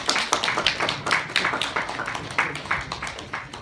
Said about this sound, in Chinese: 好，现场给一些掌声鼓励一下。